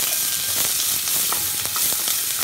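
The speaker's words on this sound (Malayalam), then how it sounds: "ഉള്ളി അരിഞ്ഞിട്ട് കൊടുക്കാം ഉള്ളി ഒന്ന് ബ്രൗൺ ആവണം" Chopped onions and tomato sizzle and fry steadily in a pan for an elephant foot yam curry, a loud continuous crackle with occasional stirring scrapes and no talk.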